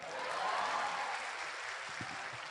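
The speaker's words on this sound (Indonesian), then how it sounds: "Aplaus dong." Brief round of applause from an audience at a talk, steady dense clapping that swells early and then tapers over about two and a half seconds.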